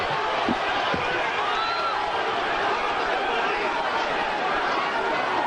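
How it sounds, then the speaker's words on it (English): A packed arena crowd at the Roy Jones Jr vs Jorge Castro boxing fight, a dense continuous roar of chatter and shouting that stays loud and steady throughout. "The crowd here has been whipped into a frenzy."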